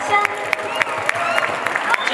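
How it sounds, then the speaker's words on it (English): Audience applause for an eight-year-old girl after her solo dance at a televised gala, a steady wash of clapping with sharp claps poking through and voices mixed in throughout. "Let's give her a big applause."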